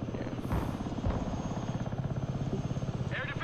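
Helicopter in the wartime strategy game Broken Arrow, a steady rotor chop pulsing evenly throughout at moderate distance, fairly faint under a constant mechanical hum.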